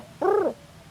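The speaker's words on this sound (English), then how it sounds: "Do you hear that mourning dove back there?" A mourning dove gives a single short, hollow coo, fairly close and clear against a quiet background.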